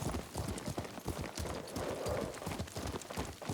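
Horse hooves clip-clopping in the video game Ghost of Tsushima, a steady galloping rhythm of close, distinct hoofbeats continuing throughout, with no speech over it.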